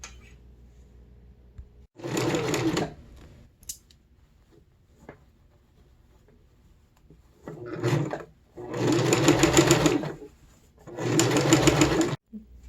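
A sewing machine stitches elastic into the waistband of simple medieval-style pants, running in four loud, close bursts of steady rapid whirring separated by quiet pauses with small handling sounds.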